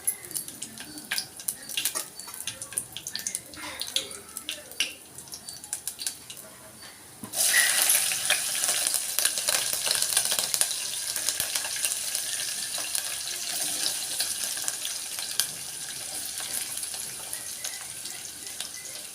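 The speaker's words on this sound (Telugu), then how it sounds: "సన్నగా కట్ చేసి పెట్టుకున్న ఆనియన్స్, పచ్చిమిర్చి వేసుకొని వేపుకుందామండి." Sliced onions and green chillies frying in a pan for an Andhra-style tomato egg curry, starting with quiet kitchen clatter, then a loud, steady sizzle that bursts in and holds to the end, close and with no talk.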